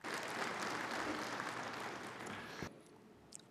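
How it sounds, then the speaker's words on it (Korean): A forum audience gives a big round of applause welcoming Chairman Kang Byung-joong to the stage, dense clapping that cuts off abruptly partway through, leaving a quiet room with a few faint knocks. "여러분, 강병중 회장님을 큰 박수로 맞아주시기 바랍니다"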